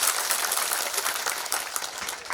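A crowd at a satsang in Garhha Rampur, Madhepura claps vigorously in a brief, dense burst of many hands, loud and close, with no talking.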